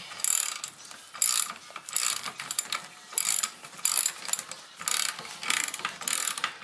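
Ratchet wrench clicking as a spring compressor is tightened on a rear strut from a 1995-2006 Neon, several bursts of quick metallic clicks with short pauses between, close and fairly loud.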